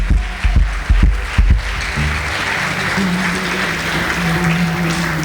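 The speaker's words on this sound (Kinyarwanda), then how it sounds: "Ni mubakomera amashyi kubera ko bari mu gihe cyabo." An audience breaks into applause that opens with a few loud, distinct claps, then settles into a steady, full clapping wash with sustained musical tones beneath it.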